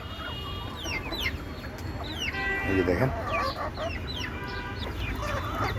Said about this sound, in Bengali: এখানে এখানে ডিম পাড়া রানিং মুরগি আছে এবং ছোটও আছে।